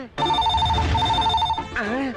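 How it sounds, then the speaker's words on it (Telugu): A telephone rings in a film scene with a loud, continuous pulsing electronic trill that stops abruptly, followed by a voice speaking. "అయ్యో, ఫోన్ మోగేసింది."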